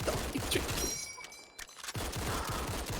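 Rapid bursts of gunfire in the tactical shooter Battalion 1944 during an esports semi-final match, dense firing that drops off briefly midway before resuming at full loudness.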